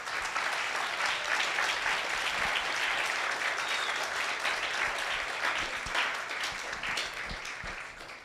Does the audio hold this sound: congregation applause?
yes